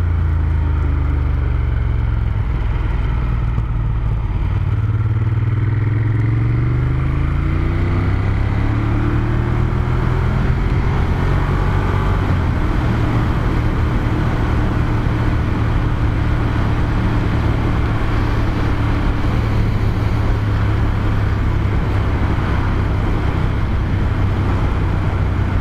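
A Ducati Monster 1200S motorcycle on the road gives a loud, continuous engine drone with heavy wind rumble, its pitch climbing and settling as it accelerates and shifts through gears.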